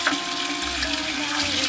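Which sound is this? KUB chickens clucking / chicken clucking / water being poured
water being poured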